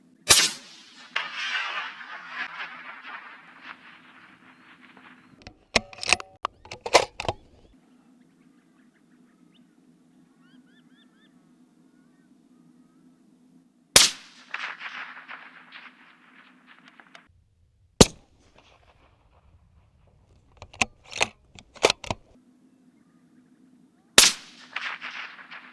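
Rifle shots from a 6.5 PRC during feral pest control in open country ring out as sharp, loud cracks, one at the start and others spaced through, each trailing a long fading echo, with quiet stretches between.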